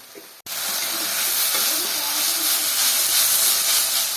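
Thankuni (Indian pennywort) leaves with a little ground cumin frying in a pan, giving a steady, loud sizzling hiss that starts abruptly and holds without pause to the end.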